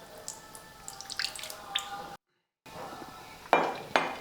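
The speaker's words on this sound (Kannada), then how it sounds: "ನೀರು ಹಾಕ್ಕೊಂಡು ಮಿಕ್ಸ್ ಮಾಡ್ಕೋತೀನಿ ರೀ." Water is added and stirred into rava uthappa batter, heard as a few close, quiet drips and metallic clinks of a spoon against a bowl, with a brief silent gap before two louder scrapes near the end.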